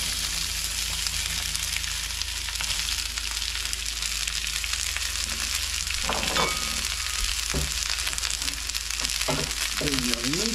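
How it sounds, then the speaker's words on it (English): Carrots, onions and snow peas hiss and crackle in a hot stir-fry pan for teriyaki, a dense, continuous sizzle heard up close, with a few faint clinks and scrapes near the end. "we're just going to put all the ingredients in there, and that is the carrots, the onions, and the snow peas, and hear the sizzle"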